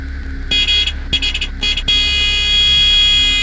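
An aircraft stall warning horn blares in a cockpit during a deliberate stall, sounding in several short bursts and then holding steady, loud over the constant drone of the engine.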